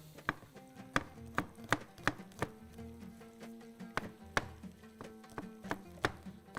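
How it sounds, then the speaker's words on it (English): A knife strikes a cutting board in quick, irregular taps while garlic is chopped for a shrimp saloona, each chop crisp and close against a quiet kitchen background. "I'm going to chop some garlic. I'm going to slice it."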